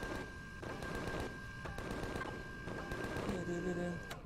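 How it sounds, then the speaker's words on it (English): Pulse rifle fire in the space survival game Empyrion, heard as a rapid series of repeated electronic shots over a steady droning background hum, ending with a short tonal beep. "Pulse rifle."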